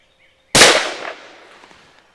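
A single sharp, loud gunshot from an M&P 22 Magnum pistol at a shooting range, a near crack with a short echoing tail that dies away within about a second and a half.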